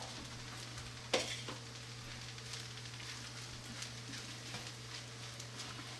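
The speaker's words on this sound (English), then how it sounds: "now we got a little bit of raw onions that are going to cook and simmer for a little while" Raw onions cook in a pan for fried rice. A soft, steady sizzle plays under a constant low hum, with one sharp clack early on. Quiet and close, with no talking.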